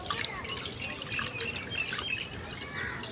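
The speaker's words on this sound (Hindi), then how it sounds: "अभी ये पानी डालने के लिए आई, देखो अभी पानी डालेगा।" Water poured out for birds trickles and drips in a quick, irregular stream of small splashes and bright droplets, fairly faint and close, with no talk over it.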